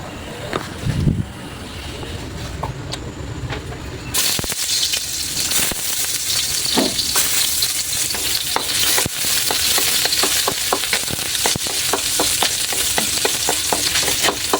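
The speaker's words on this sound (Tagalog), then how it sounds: "Bisahin sa luya at sibuyas at ilunod na sila." Moringa leaves sizzle in a hot pan with ginger and onion, starting quiet and then a loud steady frying hiss after a few seconds, with repeated stirring clicks.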